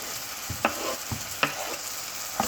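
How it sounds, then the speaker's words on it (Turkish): Roasted eggplant with walnuts and garlic sautéing in a pan: a soft steady sizzle with a few spaced spatula knocks and scrapes, close and moderately quiet. "Ve kavuruyoruz."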